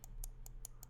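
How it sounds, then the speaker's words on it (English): Side buttons on a Vaxee gaming mouse clicking five times at an even pace, each click crisp, close and bright, over a quiet background hum. "Side buttons."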